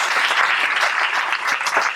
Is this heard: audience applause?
yes